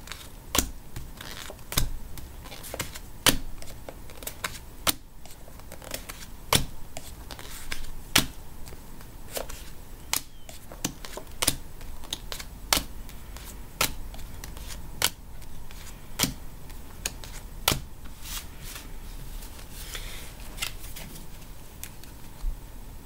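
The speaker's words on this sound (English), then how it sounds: "So now I'm going to take 14 character cards." Game of Thrones character cards are handled and counted out one by one, producing a steady series of sharp, close clicks and snaps over a quiet background hiss, evenly spaced throughout.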